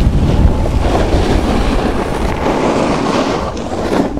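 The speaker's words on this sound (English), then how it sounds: "It's windy, all right." Loud, constant wind buffeting the microphone on a ski slope at Hyland Hills, a heavy low rumble with a hiss of moving air and no talk.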